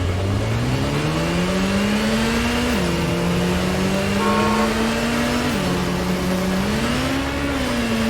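A car drives through Gotham City in the Gotham Knights video game, its engine droning steadily and rising and falling in pitch as it accelerates and shifts, close and continuous with no talk.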